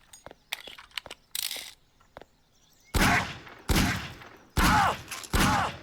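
Gunfire in Garry's Mod striking an NPC: several quiet clicks and taps first, then four loud, broad blasts about a second apart, each trailing off briefly.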